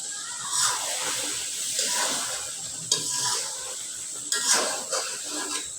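A spoon stirs a bata fish curry with tomato, potato and eggplant in a pan, giving close scraping strokes and clinks over a soft, continuous sizzle.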